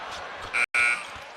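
A basketball game buzzer at a Miami (FL) versus Florida State college game sounds as a loud, steady electronic tone of about half a second, briefly cut and resumed, over arena crowd noise.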